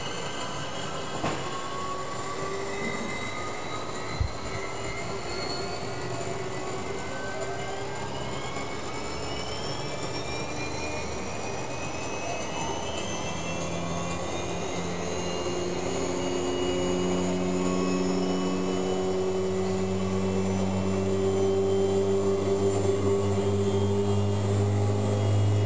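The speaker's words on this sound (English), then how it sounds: "as the pump starts up." A pump starting up and running, a faint rising tone that builds into a steady hum, growing louder and denser over the second half.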